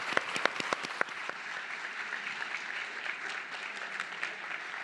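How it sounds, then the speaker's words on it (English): Sustained applause from a conference audience for a World War II history panel, with a few sharp claps standing out at the start before settling into a steady, even patter of many hands, distant and without talk. "Round of applause for our wonderful panel."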